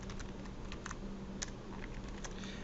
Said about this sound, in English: And then let's type in a set of parentheses.